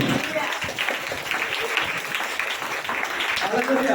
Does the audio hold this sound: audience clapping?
yes